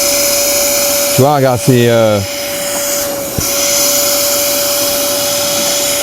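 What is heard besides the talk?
Karcher SE3-18 cordless spray extractor vacuuming without product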